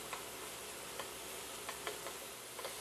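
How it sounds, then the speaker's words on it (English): Onions and garlic sweating gently in a pan for a cannelloni filling, a soft continuous sizzle with a few faint ticks and clicks scattered through it. "We're going to sweat it. I smell the onions, garlic in there."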